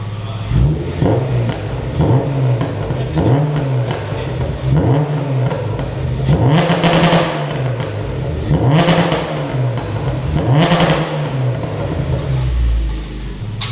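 A Honda Civic EP3 Type R engine with a modified exhaust revs repeatedly, rising and falling in steady bursts over a low idle rumble, loud and close, with a few sharper high-pitched surges.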